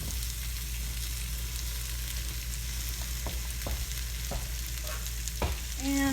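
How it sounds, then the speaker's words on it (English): Zucchini sizzles in pesto in a pan, a steady soft frying hiss with occasional clicks and scrapes of stirring near the end. "Now that we have it sort of sizzling"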